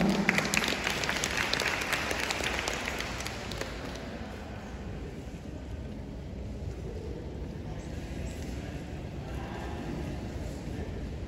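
Audience applause welcoming a speaker at a senior high school curriculum event, a steady dense clapping that is strongest in the first few seconds and then thins into a softer, continuing patter.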